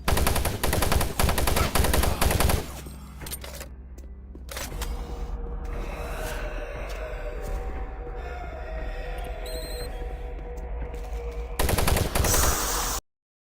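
Heavy automatic gunfire in Doom 3 hammers in loud sustained bursts, drops away to a quieter humming stretch, then returns in another loud volley before cutting off.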